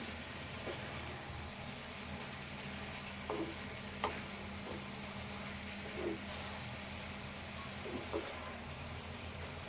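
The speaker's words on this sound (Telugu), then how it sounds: "ఈ టమాటో ఈ గోరీకుడుగాయ ఇట్లా మెత్తబడేదాకా కలుపుకోవాలి" Tomato and cluster beans with green chilies and chili powder frying in a pan, a constant sizzle with periodic scraping knocks from a spoon stirring, plus a low steady hum underneath.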